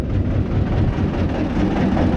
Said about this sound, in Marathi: एकदम मस्त अशी टॉय ट्रेन आहे बघा ट्रेन पण फुल झाली आहे